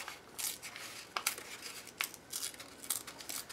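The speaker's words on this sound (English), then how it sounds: "Let's try ripping that open." Material torn open by hand for a mixed media collage with beeswax and chicken wire, a close series of short rasping rips and crinkles, soft and intermittent.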